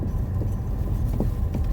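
Low, steady rumble of cars driving past near a castle, a continuous close road-traffic drone with no voices.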